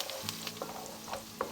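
Carrots and onions are sautéed in a pan, a soft continuous sizzle with light utensil scrapes and taps, faint and close.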